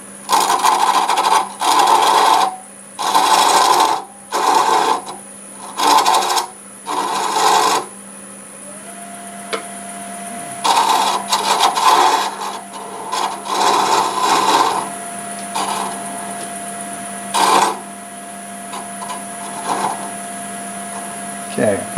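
Hard, brittle ironwood is cut and filed on a running lathe, a steady motor hum beneath repeated rasping bursts of the tool biting the spinning piece, loud and close.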